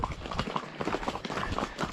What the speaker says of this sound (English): My first few steps on a horse.